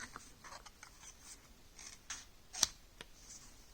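Victorinox Pioneer X scissors snip through a business card in a quick series of faint, crisp clicks and cuts, one sharper snap standing out near the end.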